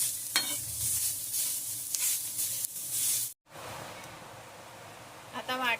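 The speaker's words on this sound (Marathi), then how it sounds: "त्यामध्ये सुक ओलं खोबरं टाकून घेऊया ओलं खोबरं सुद्धा आहे ना चांगलं लालसर होईपर्यंत परतून घ्यायचं" Grated dry and fresh coconut sautéing with onion in a hot pan, a steady close sizzle with stirring scrapes, broken by a brief cut, and a voice speaking over it near the end.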